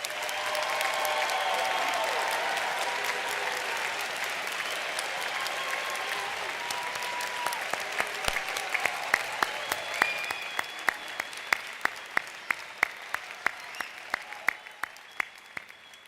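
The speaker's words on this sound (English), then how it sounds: "let's have a round of applause for our BSI graduates" A commencement crowd claps for new graduates: a full wave of applause with a few cheers that thins out over the long stretch until only scattered, separate claps remain near the end.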